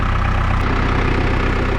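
A New Holland TC45 tractor engine idles steadily and loudly close by, a continuous even diesel rumble with no speech.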